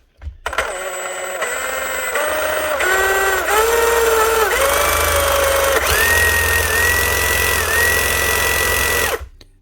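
A Milwaukee M18 FSX cordless reciprocating saw with a sticky trigger runs unloaded, its motor whine stepping up and down in pitch unevenly through the speeds, loud and close for about nine seconds with no speech.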